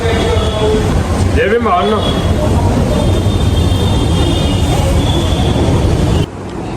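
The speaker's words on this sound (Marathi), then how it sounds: "मेट्रोचा प्रवास." Steady rumble and rattle of a moving train from inside a carriage, with voices talking over the constant noise.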